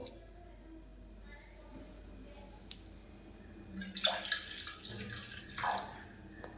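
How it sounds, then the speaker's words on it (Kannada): A glass of water poured into a pot for tea, splashing in short bursts between quieter moments, close and fairly soft, with faint background noise. "ನೀರು ಹಾಕಬೇಕು."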